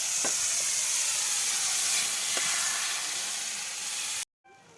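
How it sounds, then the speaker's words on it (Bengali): Chopped potatoes frying in spiced oil with small fish, a loud continuous hiss and sizzle with a couple of faint stirring knocks, close by, cutting off abruptly near the end. "পটলার আলু ভালো করে নেড়ে ছেড়ে ভেজে নিচ্ছি"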